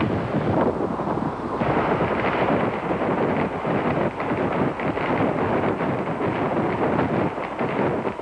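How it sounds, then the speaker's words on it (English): Hurricane-force winds roar and buffet the microphone at a weather station in Victoria, Texas, a dense, continuous rushing gale with gusty surges throughout. "Ferris and Fairchild made this unusual sound film report on a hurricane in full cry."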